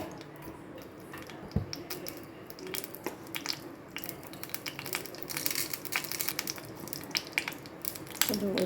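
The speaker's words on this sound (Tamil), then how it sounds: "கடுகு கொஞ்சம் பொரிஞ்சிச்சு." Mustard seeds and urad dal spluttering in hot oil while cooking tomato thokku, giving faint, irregular crackles and pops that grow slightly busier toward the end.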